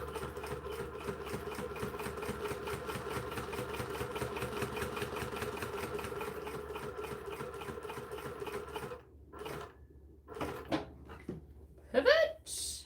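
A new sewing machine runs at a longer stitch length, a steady, rapid mechanical chatter that goes on close and clear for about nine seconds, then stops, leaving a few short knocks and a brief voice.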